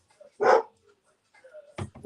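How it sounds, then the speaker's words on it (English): Freya, a young dog kept upstairs in a home, gives a couple of sharp barks and a yip, slightly distant and muffled, with short pauses between them and no talk. "That is my grand puppy upstairs."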